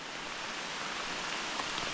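Steady rain pours down in the hills of Idukki, Kerala, a dense even hiss of drops on surfaces that holds constant throughout without any voices.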